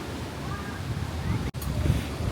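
Steady wind gusts buffet the microphone on a beach at Sihanoukville, Cambodia, in the hot season, with a low rumbling roar like surf beneath, and a brief dropout in the middle.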